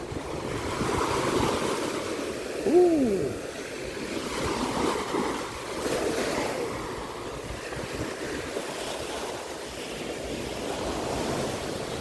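Sea waves wash onto the sandy beach at Laem Charoen, Rayong, in Thailand, a steady rushing surf mixed with wind buffeting the microphone throughout, with one brief chirp-like sound early on.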